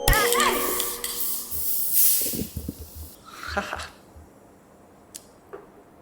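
A local Indonesian lychee soda bottle with a marble-style cap is popped open with a sharp hiss, then fizz sprays out over a couple of seconds, mixed with scattered clatter and a short voice at the start.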